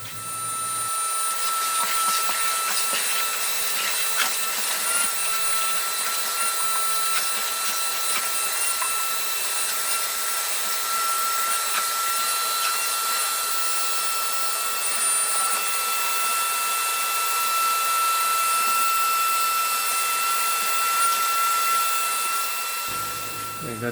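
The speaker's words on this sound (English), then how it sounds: "I'm just going to vacuum up the bee drop. I use my shop vac for that." A shop vac runs steadily for over twenty seconds in a bee barn, sucking up dead bees from the floor, a loud continuous whine and roar that starts and stops abruptly, with no talking.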